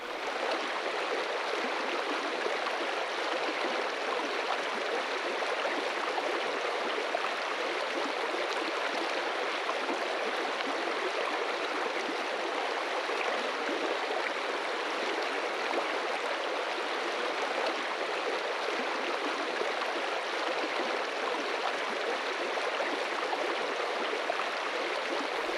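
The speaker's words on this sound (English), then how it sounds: "That's a nice babbling brook, isn't it, Shawn?" A babbling brook swollen with winter runoff rushes steadily along a nature trail, a dense, constant broadband wash of flowing water with no voices.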